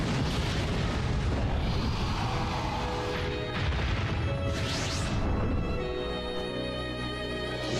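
Massive Rasengan Barrage attack in a Naruto video game cutscene, a dense continuous roar of explosive booms and crashing impacts with sweeping whooshes, loud and sustained throughout.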